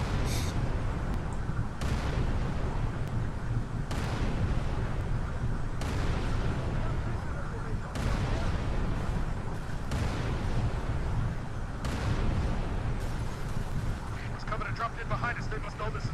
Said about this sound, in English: Dutch is advanced with the rocket launcher, and he's firing away at them too